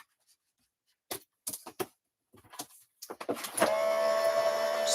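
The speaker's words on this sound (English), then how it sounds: "I'm going to just run this through my machine" A card-making die-cutting machine runs a card through after a few handling clicks and taps, its steady motorised whir starting and continuing to the end, close and fairly loud with no talking.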